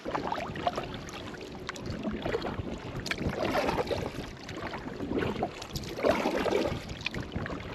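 A kayak paddle dips and pulls through open water in light wind. Soft splashes and swishes come in an uneven rhythm, close by, over a faint breezy background with no talking.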